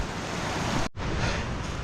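Water rushes at a stream crossing on the Pacific Crest Trail, a loud, steady broadband roar close to the microphone, broken by a brief dropout in the middle.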